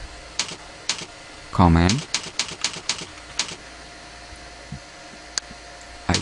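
Rapid keystrokes on a computer keyboard, crisp and close, with uneven clusters of clicks and a brief spoken word mixed in.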